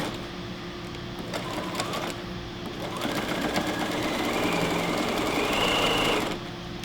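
A sewing machine stitching straps onto a cloth face mask, running in a steady close whir with a faint high hum that rises and speeds up near the end before stopping, with no talk.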